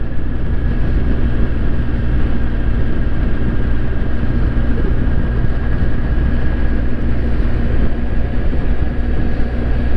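Suzuki GSX 1400 motorcycle with early fuel injection, its engine droning steadily and loudly through a continuous ride, with a low rumble under a constant whine and heavy wind noise.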